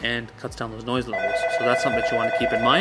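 A telephone rings with a sustained electronic tone beneath continuous talk, starting partway through and carrying on to the end.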